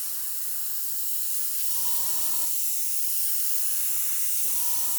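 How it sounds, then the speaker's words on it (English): An airbrush spraying neat MIG Ammo acrylic paint gives a steady, close hiss throughout, broken by two short bursts of a lower tonal hum. "So if you try and spray it normally,"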